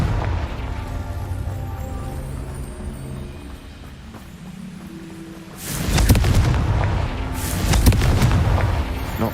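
In the PC game Hogwarts Legacy, the Confringo fire spell sets off two loud, booming blasts in quick succession. They follow a stretch of low rumbling ambience.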